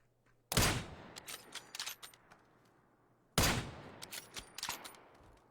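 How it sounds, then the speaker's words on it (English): Two sharp bursts of gunfire in the shooting game PUBG, each a loud crack followed by a few quicker trailing shots and echoes, close and unaccompanied by speech. "Oh, he just tried to shoot at me."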